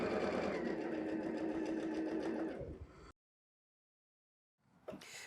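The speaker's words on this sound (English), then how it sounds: "I'm going to sew one side, have Erica press them open" A sewing machine stitches a quarter-inch seam on a Flying Swallows quilt block. It runs in a steady, fast, close whir for about three seconds, stops, and after a silence there is a short rustle of fabric handling.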